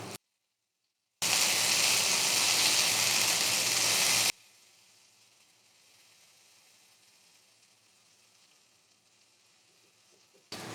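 Eggplant slices sizzle in hot oil in a pan, a loud, dense frying hiss for about three seconds that then drops to a faint low crackle.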